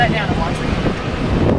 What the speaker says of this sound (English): Going back this way, the wind is bad.